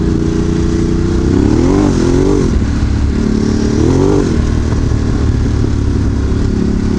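A Ducati DesertX Rally motorcycle riding off-road, its engine droning loud and steady throughout with two rising-and-falling surges as the rider works the throttle, no voices over it.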